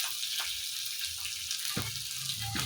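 Chillies and onions fry in hot oil with a steady sizzle and a few sharp pops and splutters. The sound is close and continuous.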